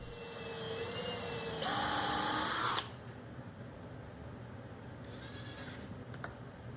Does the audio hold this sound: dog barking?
no